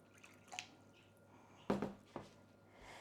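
Water poured into a bread pan, heard as a few brief wet splashes and drips at close range, with one louder splash midway and quiet gaps between.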